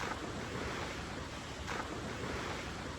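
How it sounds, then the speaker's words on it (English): Ocean waves wash steadily onto a beach, a dense, continuous roar of surf with some wind buffeting the microphone, fairly loud and close, with no voices. "I went for a quick dip in the ocean."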